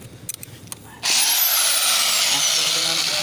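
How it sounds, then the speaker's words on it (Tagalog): A drilling machine jackhammer starts abruptly after a second of quiet with faint voices, then runs as a loud, continuous grinding whine to the end. "This is a test for the drilling machine."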